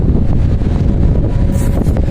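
Strong wind buffets the microphone continuously at a viewpoint in Hulhumale, Maldives, a dense low roar with no voices.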